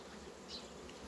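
Steady, low buzzing of a small honeybee colony on a single frame hums throughout, faint and continuous, with no other sounds.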